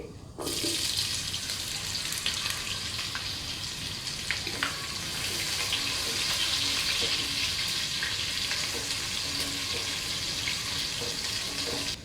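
A large sliced onion frying in hot oil over a high flame, a steady loud crackling sizzle that holds from start to finish, close up, with no talking.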